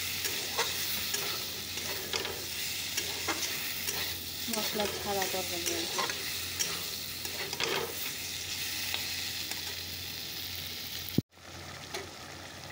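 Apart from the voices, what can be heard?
vegetable curry with salt and turmeric frying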